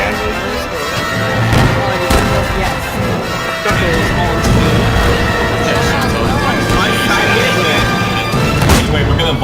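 Video game cannons fire at a ship's sails in loud, rumbling booms over a dense wash of battle noise, while several players talk excitedly throughout.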